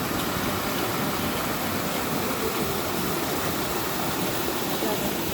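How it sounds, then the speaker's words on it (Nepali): A mountain stream in Kakopetria rushes steadily close by, a dense, even roar of flowing water that holds unchanged throughout without pause or break. "यो खोलाको स्वर यसरी सुन्न पाउनु पनि भाग्यकै कुरा हो"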